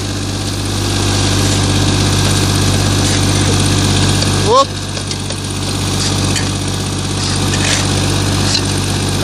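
A screed mixing machine's engine runs loud and steady close by, with a brief surge of revving midway after its lid is shut, then settles back to a rumbling idle.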